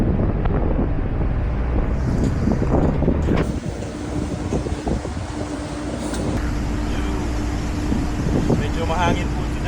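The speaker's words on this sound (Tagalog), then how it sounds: "Medyo mahangin po today." Strong gusting wind buffets the microphone outdoors, a loud broadband roar that rumbles throughout, with faint background sounds underneath.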